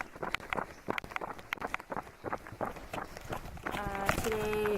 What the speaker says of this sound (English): this is the sound of me running